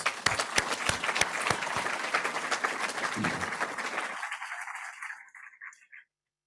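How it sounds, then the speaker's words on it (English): At a closing ceremony, an audience applauds internship sponsors and supervisors with dense, sustained clapping that thins out and fades away after about five seconds, leaving silence. "let's give them a round of applause"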